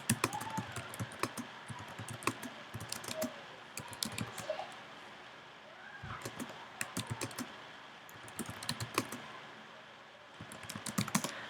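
Typing on a computer keyboard, quick irregular bursts of light key clicks close by with short pauses between runs, quiet overall.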